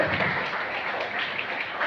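Audience applause at a school investiture ceremony, a steady wash of many hands clapping from a crowd, fairly loud and sustained throughout with no clear break.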